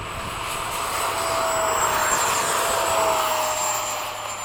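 A Freewing 80mm F-5 RC jet takes off, its electric ducted fan giving a loud, steady whine that swells and holds, close by at a flying field, no talk.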